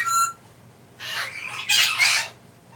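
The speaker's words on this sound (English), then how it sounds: "we're gonna end this on a peaceful note with Victoria Cockatoo" A cockatoo squawks in short, harsh bursts close by, one brief call followed by a louder run of raspy screeches, with quiet pauses between.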